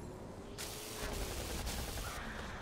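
A turret opens fire in the game Hellgate: London, sending several sharp gunshot bursts through a dense, steady wash of game noise.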